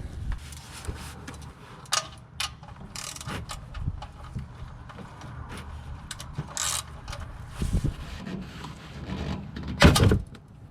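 A 14mm oil drain bolt is backed out of the oil pan of a 2007 fourth-generation Toyota 4Runner, giving irregular close metallic scrapes, clicks and rubbing with a few sharper ticks.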